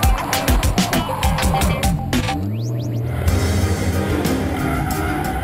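A drift race car slides through a corner with loud, continuous tire squeal and skidding, its engine droning and revving underneath, close and steady throughout.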